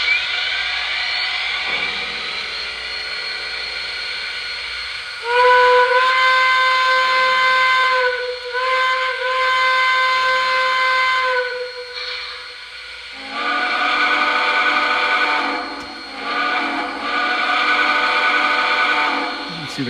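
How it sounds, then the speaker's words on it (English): A Lionel Appalachian & Western 4-6-0 model steam engine sounds its quilling whistle, a long loud chime with a shifting, bending pitch that changes partway through, over a running train rumble on the track. "You can see the quilling whistle right there."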